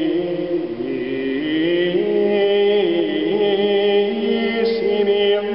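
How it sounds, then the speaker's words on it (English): A Gregorian Alleluia chant on the Latin words Altissimi vocaberis is sung in a smooth, continuous solo line with gently rising and falling pitch, close and clear, with no speech. "So first of all, I'm going to sing one portion of the Alleluia."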